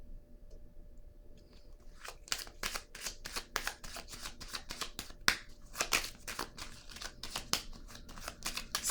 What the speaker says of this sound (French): Je vais déposer une autre carte pour avoir des détails